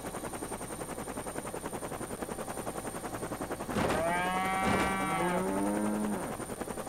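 A cartoonish cow moos from the Worms Ultimate Mayhem game, a loud drawn-out call rising over steady rhythmic game music and bursts of noise, arriving after several seconds of background clatter.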